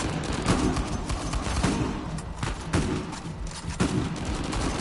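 Dense, heavy gunfire from Uncharted 4 shooter combat, including shotgun blasts, with loud booming shots repeated over a constant roar of battle and no clear speech.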